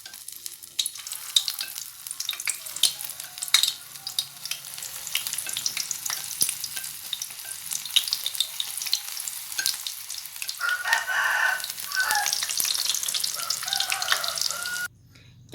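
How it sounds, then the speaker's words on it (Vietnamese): Pork skin frying in hot oil on low heat, a steady close crackling sizzle with scattered pops, running continuously with occasional stirring and a brief water-like rush near the end. "Trong thời gian mà mình chiên á các bạn, chiên da heo ha"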